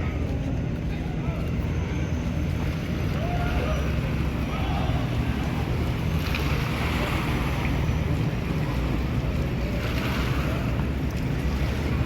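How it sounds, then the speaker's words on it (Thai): A tourist dinner cruise boat on a river passes with a continuous low engine rumble and water wash, mixed with wind buffeting on the microphone throughout. "อันนี้ก็เรือ"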